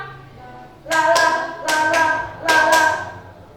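In a solfège music lesson, bright hand claps come in three close clusters, each burst sharp and near, with steady pitched tones humming beneath and between them.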